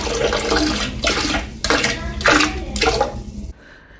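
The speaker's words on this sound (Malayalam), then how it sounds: "അങ്ങനെ ഇതാ തയ്യാറാക്കിയ ആ ഒരു സൊല്യൂഷൻ ഞാൻ ടോയ്ലറ്റിൻ്റെ ഉള്ളിൽ ഒഴിച്ചു കൊടുത്തിട്ടുണ്ട്" A cleaning solution is poured into a toilet bowl, splashing and gurgling loudly up close in several surging pulses before cutting off to near silence.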